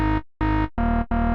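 Serum synth preset in deep house style, run through a German LP filter with the drive at 50 percent, sounding four buzzy, distorted sub-bass notes in a steady pattern, close and fairly loud, with no talking.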